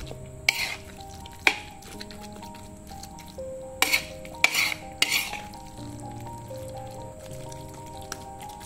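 Spicy garlic aglio olio instant pasta is stirred and tossed with its seasoning in a bowl, giving a soft, steady scraping under scattered sharp clinks of utensil against dish, several louder taps landing midway through.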